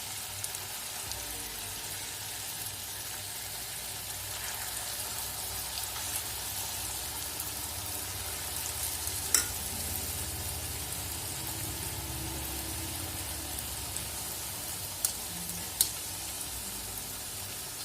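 Rice vadai deep-frying in hot oil, a steady, even sizzle and bubbling that runs throughout, with a few brief clicks near the end.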